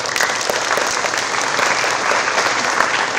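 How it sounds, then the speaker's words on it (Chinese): An audience at a Truku folk song and storytelling awards ceremony claps together, dense continuous applause filling the room for a few seconds, loud and close, without speech. "我们为自己掌声好不好？"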